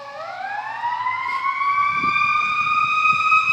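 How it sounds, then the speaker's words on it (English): A fire truck siren wails steadily with rising, sustained tones, heard during a summer power outage and fairly prominent over low background rumble. "that sounds like a fire truck"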